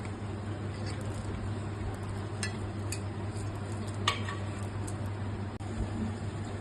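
Roasted semolina and grated coconut are stirred in a pan for sooji laddu, with a soft, continuous sizzle and scraping under a low hum, and a few faint clinks of utensil against pan.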